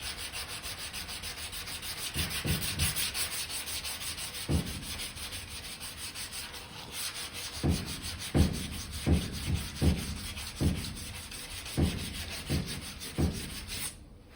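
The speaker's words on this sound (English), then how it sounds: "I've only been sanding for just a few seconds, literally" Steady rasping of sandpaper scrubbing body filler on a lead seam of a 1968 car's quarter panel, rising into a series of rhythmic back-and-forth strokes toward the end, close and fairly loud.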